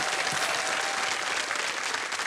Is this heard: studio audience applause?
yes